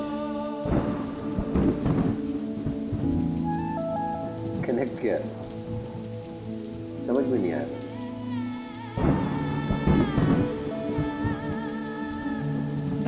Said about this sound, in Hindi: बारिश का शोर सुन रहे हैं?